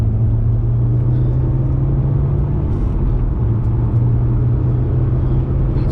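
A 106 car cruising on a dry road, its engine a loud, continuous low drone with steady road rumble, heard from inside the car with no break throughout.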